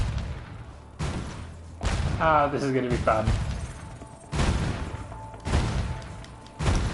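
A big cannon fires repeatedly in Spyro 3 Reignited, a series of loud booming blasts about a second apart, with someone talking over part of the sequence.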